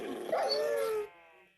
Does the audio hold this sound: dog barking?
yes